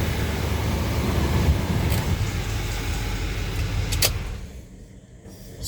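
A car motor idling steadily after cranking, a continuous low rumble running evenly for several seconds before easing off near the end.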